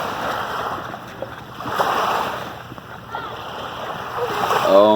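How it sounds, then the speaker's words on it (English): Splashing as a baby is dipped into lake water at Castle Rock Lake on a beach day, a few soft irregular splashes close by under murmuring voices and outdoor ambience. "This is Legend's first dipping."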